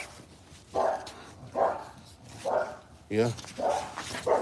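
A dog barks in loud bursts about once a second, four or five barks in a row, close by, with a voice briefly heard between them.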